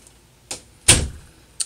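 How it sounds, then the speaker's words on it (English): A door is shut in a workshop, with a soft knock and then a firmer thud and rattle, followed by a faint click, close by and with no talk. "Shut the door, please."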